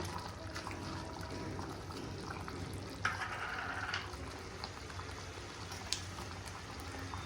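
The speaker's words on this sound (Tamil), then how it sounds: "நம்ம போட்ட சர்க்கரை ஃபுல்லாக கரைஞ்சி நல்லா கொதிச்சிருக்கு" Sugar syrup for pineapple sweet pachadi simmers in a pan, a soft continuous bubbling hiss with a couple of faint clinks, quiet and close.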